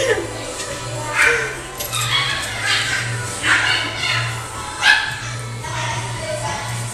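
A small puppy yips and whimpers in short, repeated bursts nearby while a person talks softly to it indoors.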